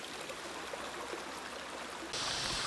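River water flowing steadily in the Philippine countryside, a continuous close rushing stream that grows brighter and louder near the end, with no talk.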